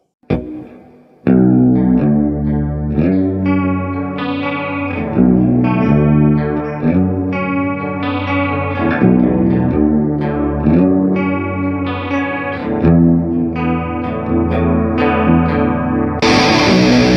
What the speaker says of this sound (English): the Danelectro Wasabi chorus tremolo pedal